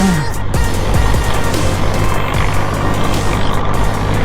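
A smoky vehicle passes on the road with a loud, close engine rumble and a steady low drone, joined by faint high beeping, with no talk.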